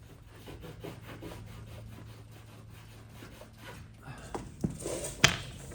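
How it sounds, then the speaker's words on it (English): Scraping and rasping as old baked-on seal material is chiseled off a 1981 Mazda RX7 tail light, steady close rubbing strokes with a few sharper taps and clicks near the end. "we're gonna have to chisel this stuff off. It is so baked on there."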